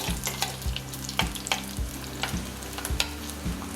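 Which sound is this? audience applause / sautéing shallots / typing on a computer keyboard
sautéing shallots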